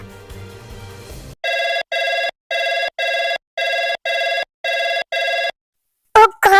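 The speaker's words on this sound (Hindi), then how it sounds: "oh God Suga, please phone उठाओ" A telephone rings in six evenly spaced electronic bursts, loud and close, after a short stretch of low background noise; a brief clatter follows at the end.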